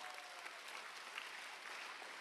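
A Korean church congregation claps during a Friday service at a summer mountain retreat. The applause is faint, dense and continuous, heard at a distance and without voices.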